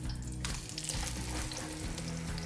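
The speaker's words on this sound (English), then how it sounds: "You can hear it searing already." Loud, close sizzling and crackling of beef searing in hot oil for pot roast, a continuous spitting hiss with a low hum underneath.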